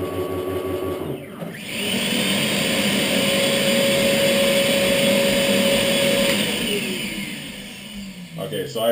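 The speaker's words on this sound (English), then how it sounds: "the mold platform will drive itself up into the actual mold, and the vacuum cleaner will turn on." A vacuum cleaner on a DIY Arduino-driven semi-automated vacuum forming machine starts up and drones steadily for several seconds at close range, then winds down, with a mechanical whine over the roar.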